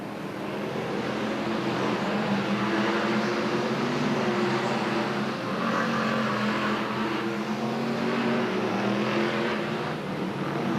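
BriSCA F1 stock cars race around the Northampton oval, a dense, constant engine roar from several cars at a distance, with no clear single pass standing out.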